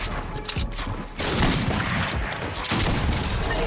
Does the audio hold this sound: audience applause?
no